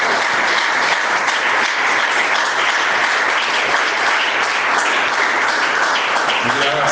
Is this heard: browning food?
no